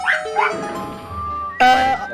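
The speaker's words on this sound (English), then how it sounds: "I hear the dog." A dog's bark and yelp ring out sharply, with a tonal ding-like layer, a sustained whine and another loud bark burst near the end. The sound comes through a game stream.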